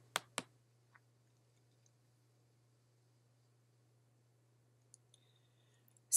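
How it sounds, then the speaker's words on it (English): Computer mouse clicks: two sharp clicks close together near the start, a faint tick later, then a few more light clicks toward the end, all over a steady low electrical hum in a quiet room. "then we're going to click the background"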